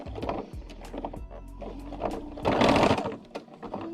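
A sewing machine stitches a seam on fabric for a child's car seat poncho, its needle chattering in quick uneven runs with brief pauses and a louder, busier burst near the end, close by and without talk.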